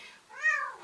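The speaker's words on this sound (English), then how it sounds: "That's our cat." A household cat gives one clear, close meow that rises and falls in pitch over about half a second, in a quiet room.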